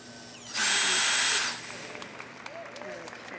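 A power drill operated by a robot whirs in one loud, steady burst of about a second, then stops, leaving faint clicks and mechanical noise.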